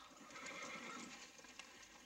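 Horses neighing and whinnying in a ranch setting, several overlapping calls at moderate distance with faint hoof clatter, no talk.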